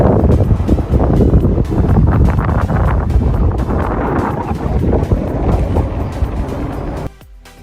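Strong, cold wind at a foggy San Francisco bridge viewpoint blasts the microphone with loud, rumbling buffeting gusts that continue almost without a break, then cut off abruptly near the end.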